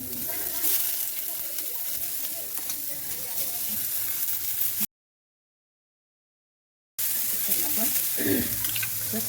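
Onion fries in hot oil for a mutton curry, a steady close sizzle that cuts out completely for a couple of seconds before resuming.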